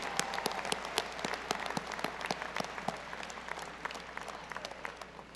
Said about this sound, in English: Graduates, please join me in a round of applause for all the support your family and friends have provided